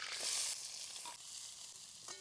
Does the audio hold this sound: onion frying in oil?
yes